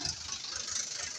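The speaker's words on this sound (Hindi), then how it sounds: "मेरे पास में ट्रैक्टर आ रहा है" A tractor engine runs steadily at a distance, a low mid-pitched rumble with faint rattle, coming closer over about a second, no talk.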